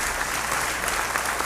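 Steady, dense audience applause at a studio music-and-comedy session, a continuous even wash of many hands clapping close by with no pauses for the whole stretch.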